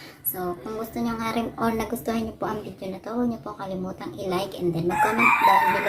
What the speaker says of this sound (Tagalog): pasensya na po sa manok kasi madaling araw ngayon.